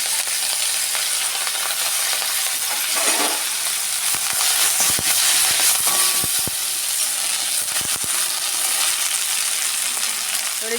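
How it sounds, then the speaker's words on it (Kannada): Coriander and mint leaves fry in a pan with a steady, close hissing sizzle that runs continuously, broken by a few soft clicks and scrapes of stirring. "ಇದರೊಟ್ಟಿಗೆ ಪುದೀನ ಸೊಪ್ಪನ್ನು ಸ್ವಲ್ಪ ಫ್ರೈ ಮಾಡುವ"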